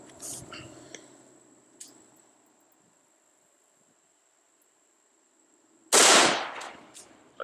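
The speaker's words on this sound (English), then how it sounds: "We're going to be shooting out of a 16-inch barrel here." A single loud rifle shot from a 16-inch barrel slams into an AR500 Level III armor plate, a sharp broadband blast with a short ringing decay, following faint quiet clicks and small taps.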